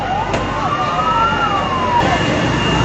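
Fire truck sirens wail at a house fire in Palembang where two rented homes are burning, one clear rising and falling siren tone sweeping steadily over a constant crowd and street noise.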